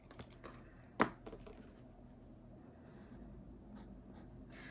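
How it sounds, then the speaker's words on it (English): A mechanical pencil scratches across paper, with one sharp tap or click standing out amid soft, steady writing strokes, close and quiet. "So I'm gonna have to use a mechanical pencil"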